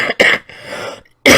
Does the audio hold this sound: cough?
yes